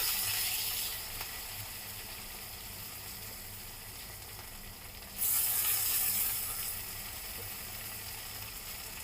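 Chopped green chili and tomato sizzling in a hot pan for a vegetarian sweet pumpkin dish, a steady close frying hiss that flares louder midway as the vegetables hit the oil, with no talking.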